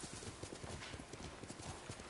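Horse hooves clip-clop steadily through the forest in Ghost of Tsushima, a rapid galloping rhythm that stays close and even over a dense ambient wash for the whole stretch.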